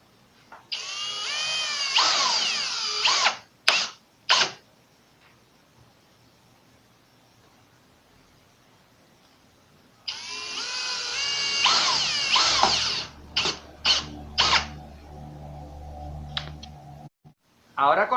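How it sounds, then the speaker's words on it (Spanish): A power drill drives two screws into glued wooden slats for a modern wood and melamine table, two loud whirring bursts of several seconds each, with short trigger blips after each run and quiet pauses between. "Ahora colocaremos los 2 tornillos en la parte de arriba y abajo de las perforaciones que hicimos."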